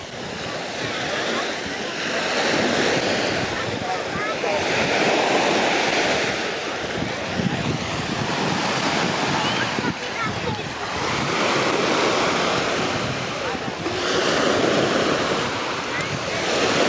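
Waves wash steadily onto the beach at Erie, Pennsylvania, in repeated surging swells mixed with wind buffeting the microphone, loud and close with no talk over them.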